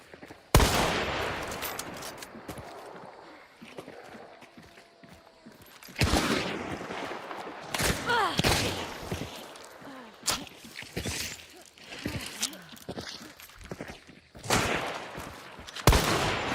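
Gunfire in a video game match, loud bursts of shots in several separate volleys with quieter gaps and footsteps between them.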